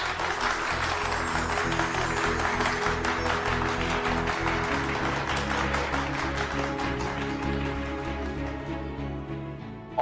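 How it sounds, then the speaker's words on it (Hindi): Loud applause for a couple at a mehndi celebration on a TV drama set, a dense clapping wash sitting over sustained music with steady low tones, the whole mix staying loud throughout. "जोरदार तालियां।"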